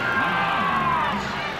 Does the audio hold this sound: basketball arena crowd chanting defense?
yes